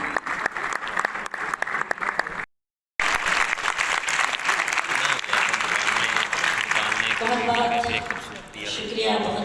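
Audience applause at a Hindi poetry recital (kavi sammelan) in Lucknow, dense and loud, broken by a brief silent gap, with a voice speaking over the close of the clapping.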